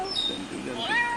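A cat lets out a couple of close, drawn-out meows with rising and falling pitch.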